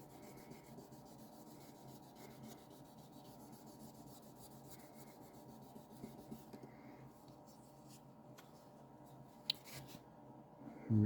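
A Gibson J-45 12-string acoustic guitar headstock being wet-sanded by hand with 2000 grit sandpaper, a soft, steady rubbing that repeats close by and stays quiet for the whole stretch.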